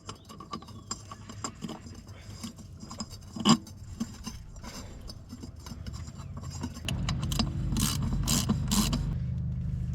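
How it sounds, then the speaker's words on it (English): A wrench tightens a bolt on a Case International 395 tractor during a hydraulic and transmission filter change, with a series of metallic clicks and creaks, one sharp clank, then a louder grinding rasp of repeated turns. "Just your normal tightening up a bolt on it."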